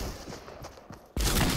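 Gunfire from the video game Fortnite, a short burst of several quick shots followed by a loud, sustained blast of noise near the end, with no talk over it.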